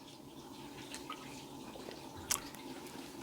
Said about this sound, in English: It's water dripping through the pipes from folks flushing toilets.